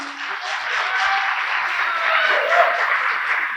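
A live audience at a motivational book talk breaks into steady, loud applause, a dense wash of clapping with scattered shouts carrying on throughout.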